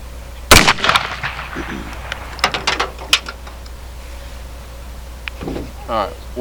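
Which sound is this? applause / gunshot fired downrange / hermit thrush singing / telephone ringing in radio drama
gunshot fired downrange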